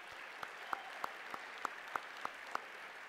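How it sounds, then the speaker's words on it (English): Sparse, scattered clapping at a Pride Agenda spring dinner, with a few distinct individual claps at a steady, fairly even rhythm over a quiet room, faint and slightly distant. "we should give them another round of applause"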